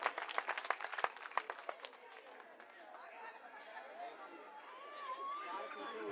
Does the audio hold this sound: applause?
yes